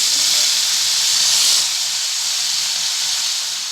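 Bitter gourd slices fry in hot oil in a home kitchen pan, giving a steady, close sizzling hiss that continues evenly and fades slightly toward the end.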